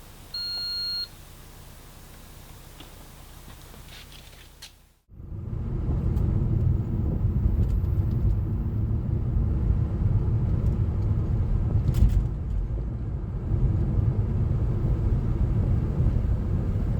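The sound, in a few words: Alfa Romeo Giulietta QV driving on test drive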